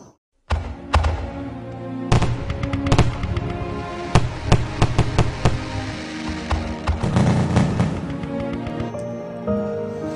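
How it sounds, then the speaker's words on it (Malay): Fireworks bursting, a string of sharp cracks and pops at uneven intervals with crackling tails, loud and fairly close, running continuously after a brief silent start. "Begitu juga dengan pembakaran bunga api."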